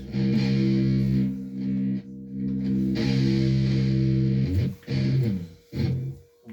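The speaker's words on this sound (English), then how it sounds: "So the chorus is with some distortion, with the distortion effect." Distorted electric guitar plays a chorus riff, with sustained crunchy chords broken by short gaps, then choppier muted stabs near the end, loud and alone.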